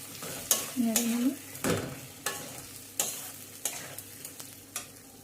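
Potatoes being stirred in a frying pan, with a steady soft sizzle and repeated scraping strokes of a utensil against the pan at a slow, even rhythm, close and fairly quiet, with no talking.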